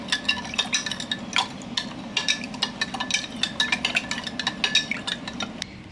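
A spoon stirs sugar into a water and vinegar mix, clinking rapidly and steadily against the sides of a container for several seconds. The close, bright taps repeat with no talking.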